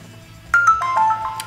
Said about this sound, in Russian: когда приходит уведомление, оно у нас появляется сверху